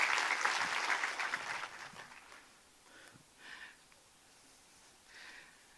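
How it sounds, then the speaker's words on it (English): Audience applause bursts out briefly and quickly fades, followed by quieter room noise and a few faint breathy sounds, fairly soft overall. "So a round of applause for"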